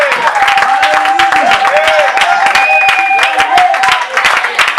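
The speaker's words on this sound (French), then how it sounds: "Clap for the Lord" A congregation claps steadily and energetically, with dense overlapping applause, scattered cheers, and singing or voices carrying over the clapping throughout.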